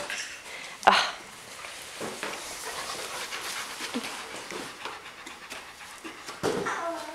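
A dog pants close by with quick rhythmic breaths and a couple of sharp bumps, while soft indoor background noise runs underneath.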